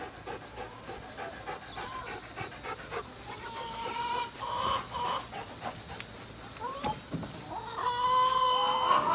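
On a ranch, a flock of hens clucks and chatters close by while a rooster crows loudly near the end, with busy overlapping calls throughout.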